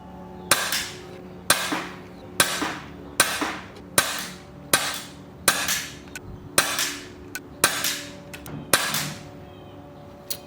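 Air gun firing ten shots of pellets with slightly bent skirts, each a sharp crack with a short decaying ring, spaced roughly a second apart, close and clear with no talking.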